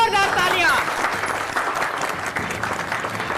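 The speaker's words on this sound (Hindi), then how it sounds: "उनके लिए जोरदार तालियां" A crowd at a community health event in Bihar applauds the winner of a game, dense clapping that starts strong and gradually tapers, with a voice speaking over the opening moments.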